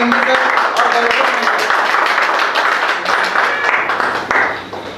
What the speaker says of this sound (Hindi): इस केक कटिंग सेरेमनी के लिए एक बार जोरदार तालियां मैं चाहूँगा कि एक बार जोरदार तालियों का स्वागत करें हमारे सीएमडी सर और डायरेक्टर।